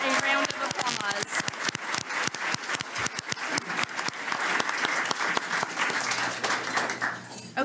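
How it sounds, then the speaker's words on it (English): A crowd breaks into loud, sustained applause, dense clapping filling the room for several seconds without pause. "let's give the primary champions a round of applause"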